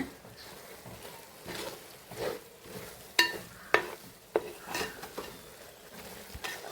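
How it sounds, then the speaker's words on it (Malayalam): Plain ground chili powder sautéing in a pan, with soft, uneven sizzling under scraping, clinking stirs against the metal, close and moderately quiet. "നമ്മുടെ മുളക് പൊടിയൊക്കെ ഒന്ന് വഴണ്ട് വരുന്നുണ്ട്"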